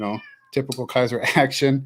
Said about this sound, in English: Sorry for the cat meows.